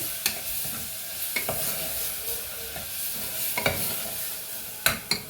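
Garam masala and spices cooking in a pan, a steady soft sizzle broken by sharp scraping strokes of a stirring spoon every second or so, close and moderately loud, with no talking.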